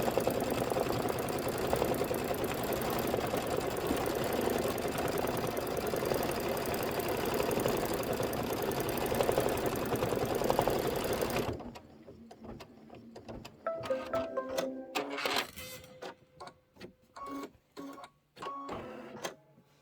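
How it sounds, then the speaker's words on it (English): A sewing machine stitches a filling placement line in quilting fabric, with a loud, steady mechanical whir for about eleven seconds, then a few short start-and-stop bursts of stitching. "And go ahead and stitch the filling placement line."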